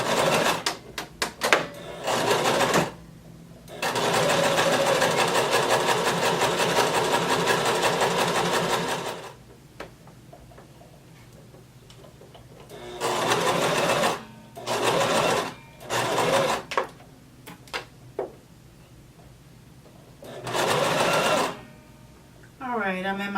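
A sewing machine stitches a casing on a maxi dress in long steady runs, then a series of short bursts and stops for back stitching, close and loud, with brief talk in the gaps.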